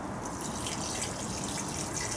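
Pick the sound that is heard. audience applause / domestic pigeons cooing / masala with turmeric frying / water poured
water poured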